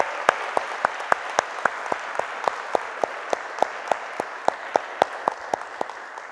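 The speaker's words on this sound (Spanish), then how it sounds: "Démosle un aplauso grande al Señor por su palabra." A church congregation claps in a steady, even rhythm, the sharp claps coming about four times a second, moderately near over a soft room hum.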